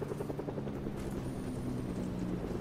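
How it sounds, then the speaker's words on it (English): A helicopter lands in the video game Fortnite, its rotor producing a steady, loud, throbbing drone that runs through the whole stretch. "The helicopter just landed by you."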